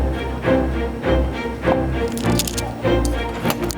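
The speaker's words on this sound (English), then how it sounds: "I'm gonna cut about, say, 2 centimeters." A knife chops through rolled spiral pastry dough on a board, giving five or six evenly spaced, close, dull thuds, each with a soft squish, and no talking.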